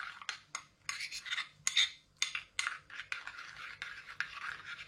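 A utensil stirs a frothy yeast mixture in a bowl for donut dough, making a series of close scraping, rasping strokes in an uneven rhythm with short pauses between them. The sound is fairly quiet and carries no talk.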